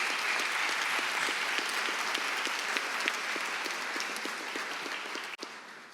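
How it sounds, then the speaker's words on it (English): Sustained audience applause at a Chicago Bar Association annual meeting, a steady wash of many hands clapping throughout, tapering slightly near the end. "Let's give him a round of applause."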